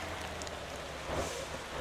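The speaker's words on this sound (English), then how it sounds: "rain is good and all, but sometimes if you're driving real fast," Faint, steady rain hisses evenly in the driving video game Motor Town, a soft continuous patter with a slight swell partway through.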